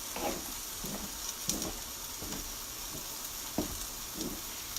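Ground beef sizzles steadily in a pan, a constant broadband hiss with periodic scraping stirs roughly every second, no voices present.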